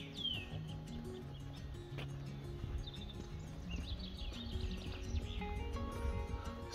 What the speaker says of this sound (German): Hört einmal das Vogelgezwitscher.